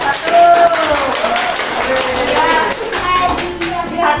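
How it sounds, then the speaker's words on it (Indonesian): Classroom applause for the first group during a civics microteaching lesson, a sustained patter of many hands clapping loudly and close with voices and a whistle-like tone mixed in. "Tepuk tangan untuk kelompok satu."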